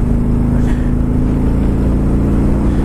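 A deep, steady Harley-Davidson Road King Milwaukee 8 V-twin engine rumble with strong low harmonics runs continuously, loud and close, with no pauses or voices.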